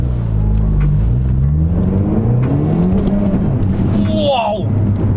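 A Peugeot 308 GTi accelerates around a roundabout, its engine note rising and falling loudly from inside the cabin, with people talking at the end.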